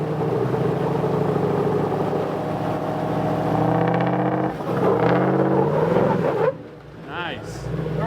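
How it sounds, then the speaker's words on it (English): A car's engine revs hard as its tires are burned, a loud sustained roar with rising harmonic whine that cuts off abruptly, leaving a quieter idle; people talk over the engine noise. "Burn your tires for a second."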